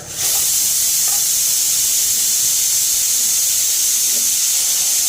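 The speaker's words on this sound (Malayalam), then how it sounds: "നമ്മുടെ സീറ്റി അടിച്ചുകൊണ്ടിരിക്കുകയാണ് കടലക്കറി" A pressure cooker cooking chickpea curry whistles with a loud, continuous hiss of escaping steam that holds steady throughout, close by and without voices.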